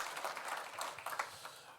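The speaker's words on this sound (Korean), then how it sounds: "안 계시더라도 여러분들 기억해 주시고 박수 한번 부탁드리겠습니다" Faint applause from a crowd at a Korean campaign wrap-up event, a short patter of many hands clapping, quiet and distant.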